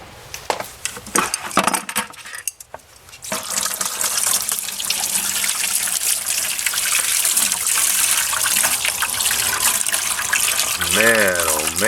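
Water rinsing a Weber 44 DCNF carburetor in a bucket: after a few scattered knocks, a continuous loud splashing gush starts and fills the rest, close by.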